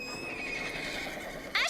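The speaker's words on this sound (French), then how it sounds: "Un cheval, j'ai un cheval." A horse named Blackie lets out a whinny close by in a stable corridor, a wavering high call held across the clip that ends in a brief sharp squeal, with no talk over it.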